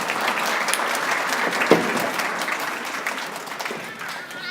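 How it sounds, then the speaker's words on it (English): Students applauding their parents at a December school band concert with the 7-2 Cadet Band and Titan Jazz Band, continuous crowd clapping filling the hall, steady throughout with a faint dip near the end. "So students, you should clap for your parents now."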